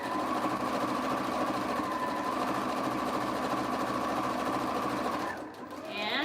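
A sewing machine runs continuously while stitching fabric for a surgical scrub cap, a steady close whirring hum that stops abruptly near the end.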